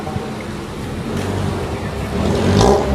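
A 2001 Suzuki Katana GX motorcycle engine revving steadily, close and loud, with the throttle opened and the engine building slightly toward the end.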